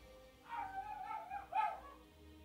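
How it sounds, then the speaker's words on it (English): A dog at home gives two short barks, close by, with a pause between them over a low background hum, and no one speaking. "Dog, please stop."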